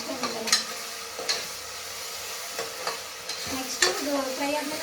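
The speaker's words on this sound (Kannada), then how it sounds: "ಇನ್ನೂ ಫ್ರೈ ಆಗಲಿ ತಡಿ, ಫ್ರೈ ಆಗಲಿ ತಡಿ." Mushroom biryani ingredients frying in oil in a pot, giving a steady close sizzle with several light scraping stirs and a spoon tap or two, and no voices over it.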